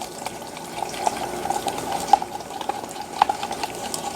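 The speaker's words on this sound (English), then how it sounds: "we're going to give it a quick whisk" Blueberry ginger glaze whisked briefly in a bowl, a steady wet stirring texture with a few sharp clinks of the whisk against the side, close and moderately loud with no voices.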